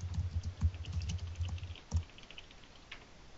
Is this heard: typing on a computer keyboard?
yes